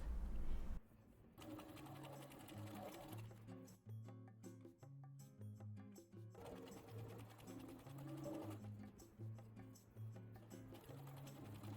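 A sewing machine topstitches the hem of elastic-waist shorts, about 2.8 cm from the edge, running in a steady, continuous mechanical whir.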